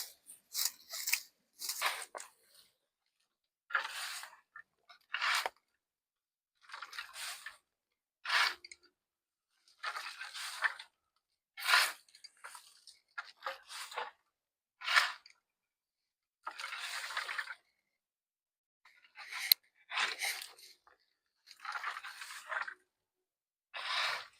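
Garden plant material cut into smaller pieces for compost: about twenty short, crisp snipping bursts with irregular pauses between them, close and quiet against a silent background.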